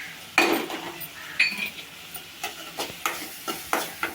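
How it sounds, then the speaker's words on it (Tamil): Green chillies and salt sauté in a pan for egg pepper rice, a soft sizzle under repeated clinks and scrapes of a spoon stirring against the pan at close range. "இப்போ உப்பு சேர்த்துக்கலாம். கொஞ்சம் வதங்கட்டும். சேர்த்துட்டோம், நல்லா வதங்கட்டும்."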